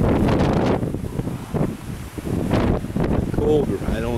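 Strong storm wind in Laughlin, Nevada, buffets the microphone in heavy, uneven rumbling gusts with a brief lull midway, and a voice is faintly heard near the end.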